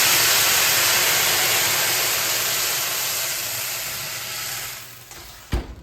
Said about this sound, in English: that's gonna create beautiful steam in the oven